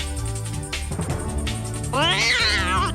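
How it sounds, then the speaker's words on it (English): Domestic cat meowing close by in a drawn-out, rising and falling call over steady background music, with a brief voice earlier. "Bro, I swear this cat."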